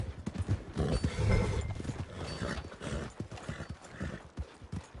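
A horse walks toward the stables in Red Dead Redemption 2, with steady hoof clip-clops over a busy, murmuring game background that holds for several seconds without talk.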